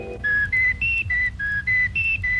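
An Oscar Mayer Wiener toy whistle blown in a rapid run of short, shrill two-tone toots, about eight bursts in a bouncy rhythm, loud and close.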